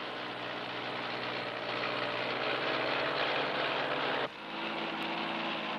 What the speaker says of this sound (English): Here is a Ford Selecto Speed tractor doing one of the tougher farm jobs.